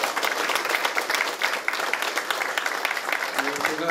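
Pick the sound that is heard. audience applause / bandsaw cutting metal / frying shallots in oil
audience applause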